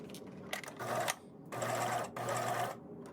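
A sewing machine stitches an invisible zipper, running in three short bursts of fast, steady, moderately close whirring with brief pauses between.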